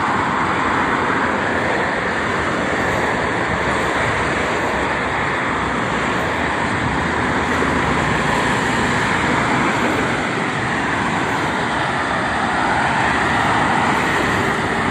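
Continuous roar of morning traffic on the Jakarta–Cikampek toll road, loud and steady, with cars and buses blending into a constant rushing wash of noise.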